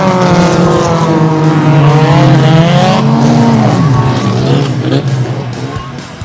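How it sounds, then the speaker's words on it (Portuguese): Race car engines roar loudly on a dirt track during a Bahia state dirt racing championship round, a sustained close revving whine with rising and falling pitch that fades slightly at the end. "Era chegada a hora de ouvir o ronco dos motores."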